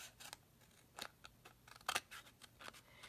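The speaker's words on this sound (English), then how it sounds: "I can take my paper snips and just cut a straight line right up the edge" Paper snips cut along the edges of paper. A series of quiet, close, crisp snips come in an irregular rhythm, about ten cuts over a few seconds, with no talking.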